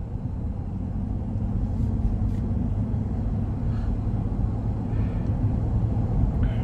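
A 2020 Chevrolet Tahoe Premier 2WD with the 5.3L V8 and 22-inch wheels cruising on the road, heard from inside the cabin as a steady, even low rumble of engine and road noise with no talking.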